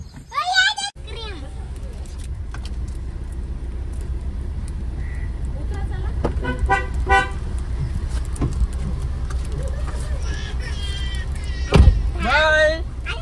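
A car is started and driven off, its engine running steadily while short horn toots sound near the start and end, with people talking over it throughout.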